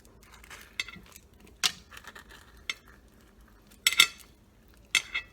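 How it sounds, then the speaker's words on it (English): A metal spoon scraping and clinking around the inside of a cut avocado skin while scooping out the flesh, giving soft rubbing scrapes and a few sharper clicks, close and quiet, with no one talking. "you cut your avocado, get your spoon, and you just go around"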